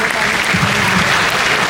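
Audience applause at an annual felicitation award ceremony in Patna, a dense steady clapping from a large crowd filling the whole moment, loud and continuous with no break.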